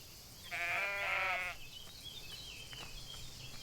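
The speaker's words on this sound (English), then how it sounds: "There's sheep back here." A sheep in the farming game Everdream Valley gives a single clear wavering bleat lasting about a second, followed by quieter background ambience.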